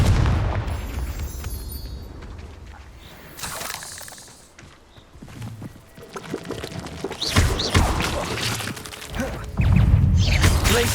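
Spell blasts and explosions from Hogwarts Legacy's Confringo charm in combat, several loud booming bursts with crackling debris and a rising rush toward the end, scattered impacts between them.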